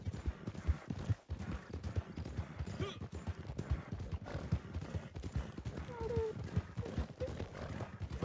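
Horse hooves clip-clop in the Red Dead Redemption 2 video game, a steady rhythmic patter with a brief whinny, running continuously beneath talking voices.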